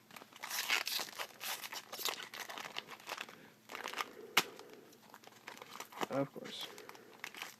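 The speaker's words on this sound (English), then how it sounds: "Gotta rip these packs." Magic: The Gathering Dragon's Maze booster packs being torn open, with close crinkling and ripping of foil wrappers in bursts and a sharp tear midway, and a voice briefly speaking.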